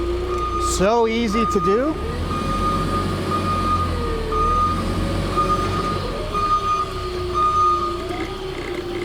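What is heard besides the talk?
Yale GLP060MX propane forklift driving in reverse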